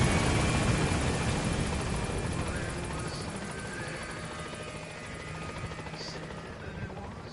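Helicopter rotor drone and engine roar from Metal Gear Solid V: The Phantom Pain, loud and steady before easing slightly, with game ambience and a voice talking over it.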